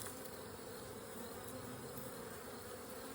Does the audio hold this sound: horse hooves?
no